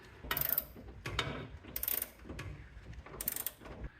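A socket wrench with a short socket ratchets on a 19mm nut holding a rear bumper bolt on a 1994 Chevy K1500 pickup, three close bursts of clicking ratchet strokes with short pauses between them.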